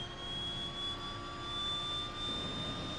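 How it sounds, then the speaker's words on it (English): The left engine of a DHC-6-300 Twin Otter spools up in FSX, a steady turbine whine with a faint tone that rises slowly in pitch over an airy rumbling roar, moderately quiet throughout. "So we'll start up the left engine first."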